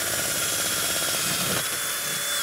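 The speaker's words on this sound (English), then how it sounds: "we need to drill a hole in top" A steady, loud whine of a power drill grinding continuously as it bores a hole in ice, its pitch shifting slightly as it bites through.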